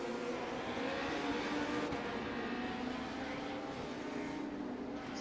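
Race cars in the iRacing sim at Five Flags roll around on a parade lap, a steady blended engine drone held at even level throughout with no talk over it.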